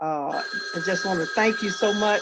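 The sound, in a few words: mobile phone ringing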